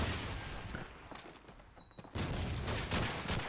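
Automatic gunfire from a machine gun position in the WWII shooter Call of Duty 2, played in a competitive match, with sharp bursts and a louder stretch of rapid shots toward the end.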